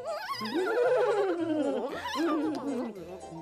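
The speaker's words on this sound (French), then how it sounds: "les sauterelles hennissaient de plaisir en dégustant une herbe tendre, juteuse." Cartoon grasshoppers whinny like horses in pleasure over juicy grass, with wavering, high-pitched neighing calls layered over gentle background music.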